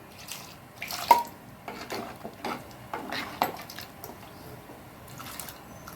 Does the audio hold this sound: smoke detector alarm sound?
no